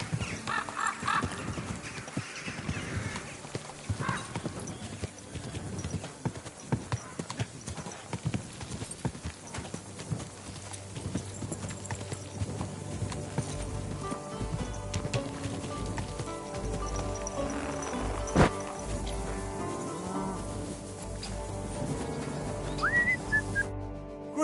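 Horse hooves clip-clop steadily through Kingdom Come, a medieval video game, in a continuous rhythmic trot over a game soundscape, with a brief whinny and whistling tones near the end.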